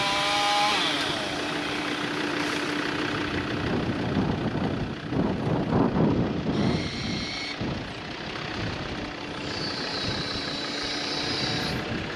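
Chainsaw cutting trees on a farm, its engine running steadily and close throughout, rising under load and settling back toward idle, with brief harmonic whines over the drone.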